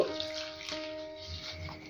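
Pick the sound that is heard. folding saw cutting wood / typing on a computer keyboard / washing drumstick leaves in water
washing drumstick leaves in water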